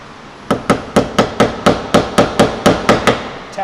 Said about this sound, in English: Tap that in to hold it in place.